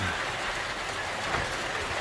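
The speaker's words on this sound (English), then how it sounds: "So the rain has started." Rain begins during a Category 1 hurricane as a dense, steady roar of falling water with a rushing, rumbling undertone, fairly loud and continuous, and no voices are heard.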